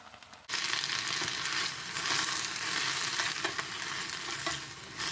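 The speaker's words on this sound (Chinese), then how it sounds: "先把油烧热，今天我只用油和盐来做一个清炒蚕豆尖。" Broad bean shoots hitting hot oil in a wok, a sudden loud burst of sizzling that carries on as they are tossed, with rustling stir-fry movement and no voices.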